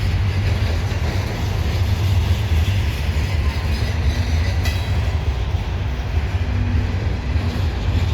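A CSX loaded coal train climbs Parrs Ridge on the old B&O mainline at sunset, a loud, steady rumble of wheels and railcars rolling past close by with a brief squeal near the middle, with no speech.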